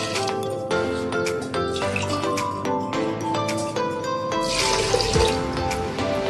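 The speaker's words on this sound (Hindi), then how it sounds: "अब हम उसमें दो गिलास पानी ऐड करेंगे।" Water pours steadily into a metal pressure cooker holding chana dal, with a hollow, filling gurgle amid scattered clinks and taps, no voices.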